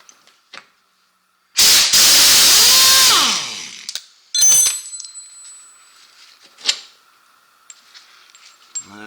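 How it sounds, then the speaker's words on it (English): Air ratchet working on CV axle parts of a Can-Am Outlander XMR ATV in a garage, one loud whirring burst of about two seconds, then a shorter burst followed by clinks and metallic ringing of parts. "I have the air ratchet"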